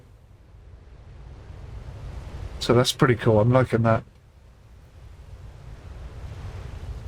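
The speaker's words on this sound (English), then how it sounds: "wave coming in from the starboard side is pushing us hard over." Ocean waves strike and push a cargo ship in the simulator Ships at Sea, a steady low wash of surf and wind throughout, briefly under someone speaking.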